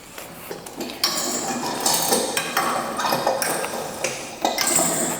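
Metal springs being unhooked and reattached on a Pilates reformer, giving a series of sharp clanks and metallic pings that arrive in bursts at close range, with no one talking.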